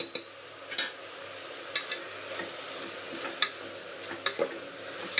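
Ginger garlic paste fries in hot oil with a continuous soft sizzle, while a spoon stirs and clicks sharply against the pan several times at irregular intervals, close up and without speech.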